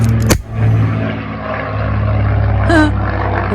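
An airplane passing overhead, a steady loud propeller-engine drone with low rumbling hum, opened by a sharp knock and briefly overlapped by a faint voice.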